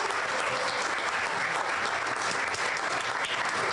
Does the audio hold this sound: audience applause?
yes